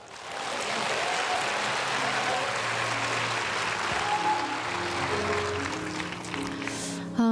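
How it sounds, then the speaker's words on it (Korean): A church audience at a Christmas special claps steadily, a broad wash of applause holding for several seconds with faint cheers and shouts mixed in before it breaks off. "환호를 해주실 거면 이렇게 확실하게 해주시고"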